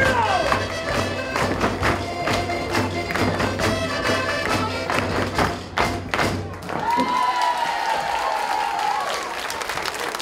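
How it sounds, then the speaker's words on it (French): Festival audience applauding with dense, steady clapping and scattered thuds filling the space, louder early on before thinning into a lighter patter near the end. "merci beaucoup pour vos applaudissements"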